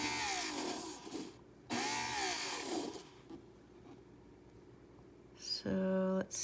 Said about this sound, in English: if I push against the grinder, it's going to get an angle